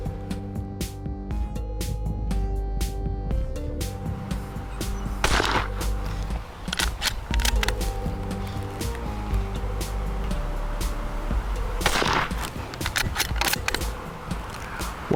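Savage 93 bolt-action rifle in .17 HMR firing at water bottles outdoors, a string of sharp cracks at irregular intervals over steady background sound and tonal music-like layers.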